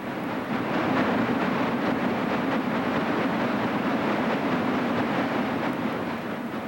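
A Chesapeake and Ohio Greenbrier steam locomotive, number 613, hauls a passenger train in a steady, continuous rumble with a clattering rolling roar that holds level throughout, with no voices heard.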